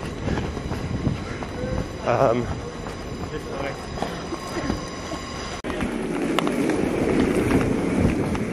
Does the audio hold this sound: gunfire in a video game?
no